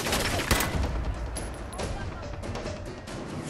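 Rapid gunfire in the Fallout 4 video game is loud and close, a dense volley of overlapping shots with a sharp crack near the start, and a voice talks over it.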